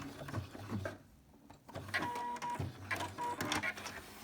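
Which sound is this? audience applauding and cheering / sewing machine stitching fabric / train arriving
sewing machine stitching fabric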